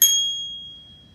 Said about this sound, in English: Oh, a bell.